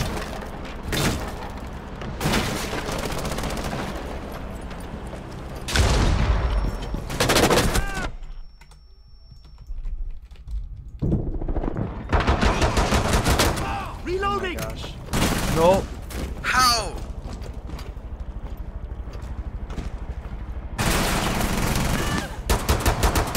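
Gunfire in the video game Rainbow Six Siege: repeated loud bursts of automatic fire and booming shots with brief lulls, mixed with keyboard clatter and excited talking throughout.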